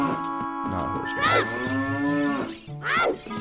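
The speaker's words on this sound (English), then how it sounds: "Hey, cows." Cow moos from The Legend of Zelda: Ocarina of Time, two long harmonic lowing calls in the 8-bit game's soundscape, loud and close over a steady melodic game backdrop with no talk.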